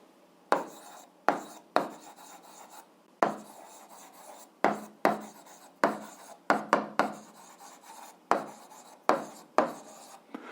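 Pen writing on paper: close, quiet scratchy strokes come in repeated short bursts with brief pauses, steady and alone throughout.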